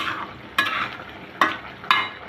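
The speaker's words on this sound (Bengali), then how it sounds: "হালকা করে নেড়ে নিব।" Green broccoli being stirred in a cooking pan, three sharp spatula scrapes over a soft background sizzle, close and fairly quiet.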